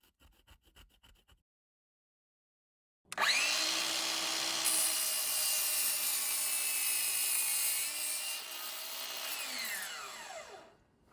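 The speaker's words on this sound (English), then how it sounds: "we cut 4 45-centimeter lengths of 100mm by 22mm timber for the end panels." A saw cuts through a length of 100mm by 22mm timber for a planter end panel, starting after a brief quiet gap with a loud, sustained rasping whine that rises in pitch and fades as the cut finishes.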